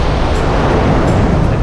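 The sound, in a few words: rough sea waves on the beach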